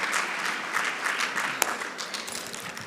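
Audience applause at a senior citizens sector parliament session, steady dense clapping from a seated crowd lasting the whole stretch at moderate level, with one sharper clap standing out.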